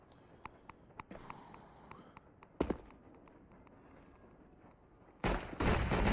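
Counter-Strike match gunfire with a P2000 pistol: a series of sharp, faint shots and clicks spread across the scene, ending in a louder rapid burst of fire.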